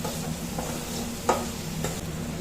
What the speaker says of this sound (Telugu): ఒక ఫైవ్ మినిట్స్ ఫ్రై అవుతుంది